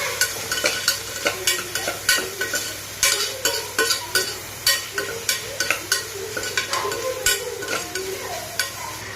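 Chili powder and garam masala are being stirred into pasta in a pan, a steady run of scraping spoon strokes, roughly one per half second, over a continuous sizzle, close and fairly loud with no talking.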